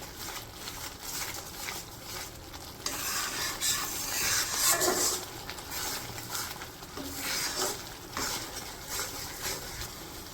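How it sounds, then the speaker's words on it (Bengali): Ground chili, coriander and other spices are stir-fried in a pan in a village kitchen, with close scraping and rubbing strokes over a steady sizzle that swells in the middle, no talking. "এখন হচ্ছে মশলাটাকে ভালো করে কষে নেব।"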